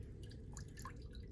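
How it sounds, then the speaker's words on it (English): Fiberglass casting tape is squeezed underwater while being soaked, giving quiet drips and small liquid splashes in a short, faint burst. "Squeeze it 2 to 3 times in the water"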